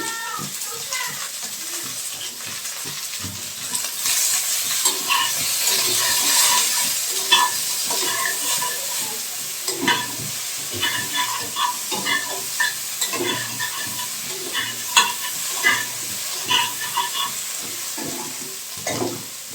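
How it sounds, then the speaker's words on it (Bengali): Okra sautéing in a pan for a Bengali sour fish dish with mourala fish, a steady sizzle broken by repeated scraping and stirring knocks of a spoon, close and continuous for the whole stretch. "পাঁচ থেকে 7 মিনিট ঢাকা দিয়ে কষে নেব ঢ্যাঁড়সটা।"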